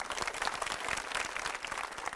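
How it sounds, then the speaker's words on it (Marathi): An audience claps steadily at a televised game show, a dense, even patter of many hands throughout, fairly soft and without voices. "चला, टाळ्या वाजवा"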